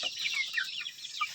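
Kampung chickens bred as laying stock cluck in a steady, busy chorus of overlapping short calls, fairly near and moderately loud, with no talking over them.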